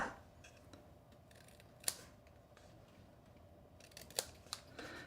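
Scissors cutting a miter cut in paper or card for a nested box-in-a-box shadow box, a few sharp crisp snips spread apart against a quiet background, with a cluster of snips near the end.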